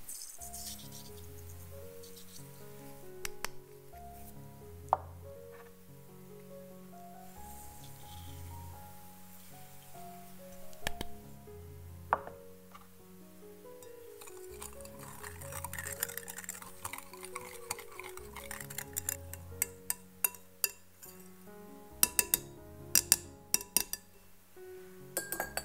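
A spoon stirs warm milk, yeast and sugar together in a bowl while making Vienna bread. Scattered clinks and light rattles come and go, growing busier near the end, under steady soft background music.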